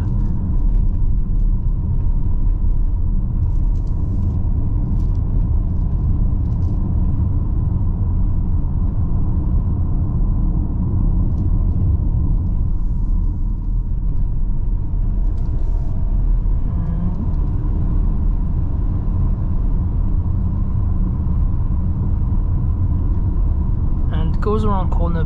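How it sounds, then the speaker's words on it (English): Steady low tire and road rumble fills the cabin of a 2022 Kia Sorento 2.2D diesel on the move, a constant loud drone with no breaks. "There's not much to complain on the road, apart from you do get a little bit tire noise."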